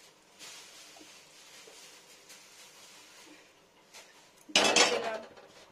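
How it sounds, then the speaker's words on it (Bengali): A metal kadai is scraped and wiped clean, with soft intermittent scrapes and light clinks, then a loud, close burst of grating metal near the end. "দেখুন ফ্রেন্ডস কড়াইটা পরিষ্কার করে নিলাম"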